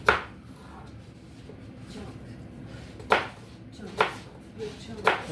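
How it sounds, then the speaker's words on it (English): A knife chops onions on a cutting board, a few separate sharp thunks spaced irregularly over a quiet kitchen background, with a loud hit at the start and others later. "Now we're going to cut up the onions."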